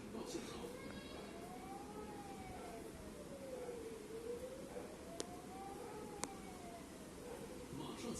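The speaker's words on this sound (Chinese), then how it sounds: "公众警报系统的信号分为2种：警报与警报解除信号。" Singapore's public warning system alarm siren wails in slow rising and falling sweeps, loud and continuous over a steady background, with two brief sharp clicks partway through.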